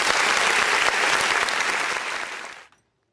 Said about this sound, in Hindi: तो आप सभी दर्शकों के लिए हम सबसे कहूँगा कि ताली बजा दें सर